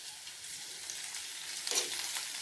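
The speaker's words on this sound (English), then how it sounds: "now we're gonna put the sambal into the pan" Sambal fries in a pan with a quiet, steady, fine-grained sizzle. A brief louder burst of spitting comes near the end, and no one speaks.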